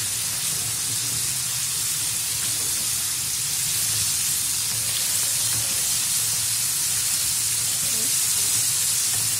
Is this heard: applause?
no